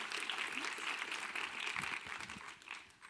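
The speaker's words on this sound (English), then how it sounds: "Everybody give a round of applause for Gina" Conference audience applause at a design talk, a fairly faint, distant crackle of many hands clapping that thins out over about three seconds, with a few low voices beneath it.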